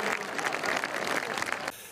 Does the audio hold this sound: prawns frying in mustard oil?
no